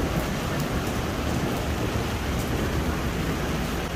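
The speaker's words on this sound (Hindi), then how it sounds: "क्योंकि बहुत तेज़ बारिश हो रही है" Heavy rain pours steadily on a university campus in Rawalpindi, a dense, constant hiss with no breaks and no voices, loud and close throughout.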